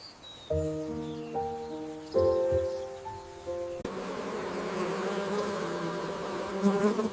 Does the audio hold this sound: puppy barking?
no